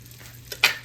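Amish butter hits a hot skillet with a short, sharp sizzle and a faint clink of the pan, close up and brief, with no talk over it.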